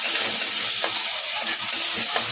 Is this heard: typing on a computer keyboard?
no